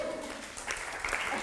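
Conference audience applauding in a hall, a faint, steady patter of clapping that swells briefly toward the end.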